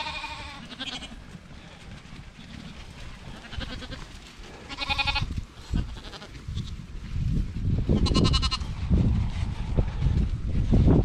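Several sheep crowd a feeding trough, bleating loudly in bursts amid close munching, shuffling and jostling, with wind buffeting the microphone.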